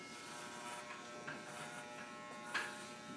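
Steady electric buzz of hair clippers fitted with a guard attachment cutting a man's hair, close and continuous, with slight changes in tone as the blades move through the hair.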